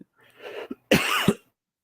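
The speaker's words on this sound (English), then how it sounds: "Still coughing out the COVID" A person recovering from COVID coughs a couple of times close to the microphone, short harsh bursts with a brief throat-clearing sound before them.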